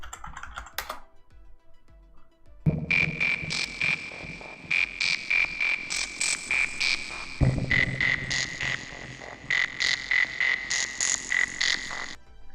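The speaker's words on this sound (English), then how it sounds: "this is a fun little sound effect that sounds a lot like frogs croaking." A frog-song sound effect of croaking frogs, repeated chirping croaks in a steady rhythm over a faint tapping bed, moderately loud and heard on its own without talk.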